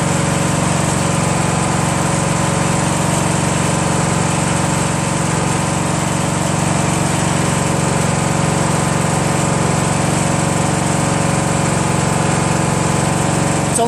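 A Briggs & Stratton 14.5 HP engine on a Poulan 42-inch lawn tractor runs at about half throttle, a loud, steady, unbroken drone held close throughout with no talk.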